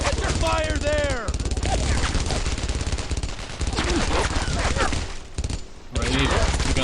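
Dense rifle and machine-gun fire rattles almost continuously through a World War II squad firefight in Brothers in Arms: Earned in Blood, with voices shouting over the shooting and a brief lull near the end.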